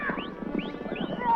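Horses clip-clopping along at a horse race, hoofbeats blurred into a busy mix of crowd chatter and voices, with faint whistle-like sweeps rising over the steady noise.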